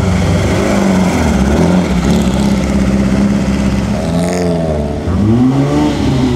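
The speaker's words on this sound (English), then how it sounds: "They always get it in the wrong gear and lug it up the hill." Vintage racing car at the Mille Miglia lugging uphill in too high a gear, its engine droning loud and close, then rising and falling in pitch as it strains up the slope.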